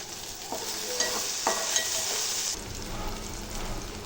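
Ginger garlic paste fries in oil with a loud, continuous hiss and a few scrapes of stirring near the start, heard up close and alone.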